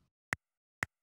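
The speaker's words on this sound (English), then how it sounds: "So I'm gonna put a metronome on" Two sharp, crisp metronome ticks about half a second apart, set for a trombone improvisation lesson, sounding alone and close in an otherwise silent room.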